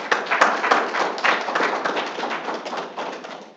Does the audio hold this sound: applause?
yes